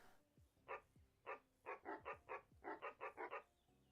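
Cartoonish dog character barks in a video game, a run of about a dozen short, bright barks, single at first then in quick clusters of three and four, loud and close with no talk over them.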